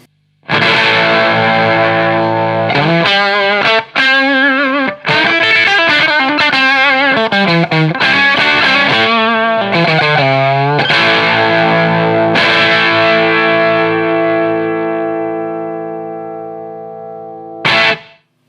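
Electric guitar played through a hand-wired Fuzz Face clone pedal, thick and saturated, with sustained distorted notes and bends, then a long ringing chord fading out before a final strum.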